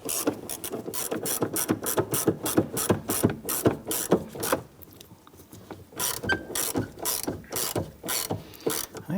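A hand ratchet tightens the console bolts on a 1997–2006 Jeep Wrangler, giving steady, close, rapid clicking bursts of the pawl in repeated strokes, with a short pause midway before the clicking resumes.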